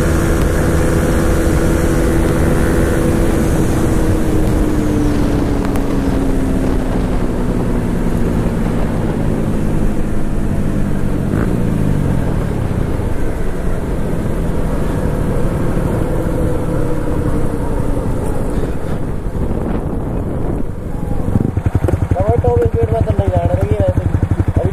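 Yamaha R15 V3 and KTM RC 200 sport motorcycles drag racing on a highway, a steady loud engine drone with rising and shifting pitch over constant wind rush, with a brief dip near the end before the revs climb again.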